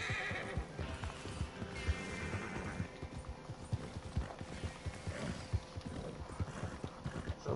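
A video-game horse whinnies and gallops with steady, rapid hoofbeats that run throughout, close and fairly loud, with faint voices underneath.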